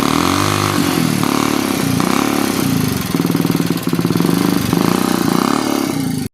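A kick-started motorcycle engine runs steadily and loudly close by, a continuous mid-pitched drone with slight revving surges throughout, with no talk over it.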